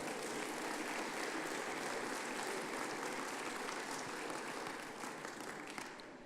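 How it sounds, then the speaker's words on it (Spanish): Congregation applause during a church service, a broad, continuous clapping from many people in a hall, fairly soft overall and tapering a little near the end, with no talking over it. "Yo sé que ustedes están aplaudiendo"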